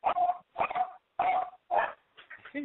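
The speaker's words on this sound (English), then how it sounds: "my dog is having a dog minute" A dog barks and whimpers in a quick run of four or five yelping, whiny bursts. The sound is close and loud, with no talk over it.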